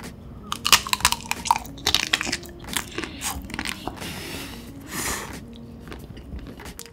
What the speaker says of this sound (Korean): 다음은 초코바나나 먹어볼게요